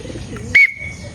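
A racing pigeon returns to the loft and gives a single short, bright call up close, rising out of quiet outdoor background noise.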